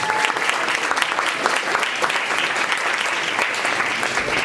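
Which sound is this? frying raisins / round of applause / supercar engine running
round of applause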